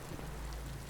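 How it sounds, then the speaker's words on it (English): Torrential rain pouring as a dense, continuous hiss with a low rumbling undertone, steady and enveloping across the whole short stretch. "From that poisoned firmament came rain"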